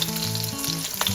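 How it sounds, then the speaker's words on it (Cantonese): Meat patties with salty shrimp paste sizzle steadily in a pan after being flipped to fry the second side, a close, continuous frying crackle with no voices. "煎埋另一邊。"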